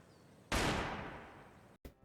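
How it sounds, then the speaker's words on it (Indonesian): A single gunshot in a crime film scene, a sharp sudden blast with a long fading tail, followed by a brief silence and a short trailing noise. "terdengar suara tembakan."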